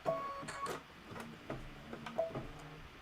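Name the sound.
sewing machine stitching slowly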